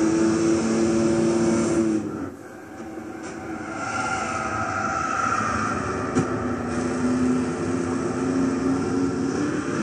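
The engine of a 1970 Dodge Charger 440 R/T in the racing game Gran Turismo 6, at Tsukuba, whines at high revs, its pitch dipping and climbing through gear shifts, loud and continuous with no talking.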